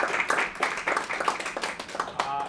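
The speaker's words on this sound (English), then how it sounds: "Round of applause to James, it'd be lovely" Small audience at an education talk applauding the speaker, a short burst of light, close hand claps mixed with a voice speaking over them.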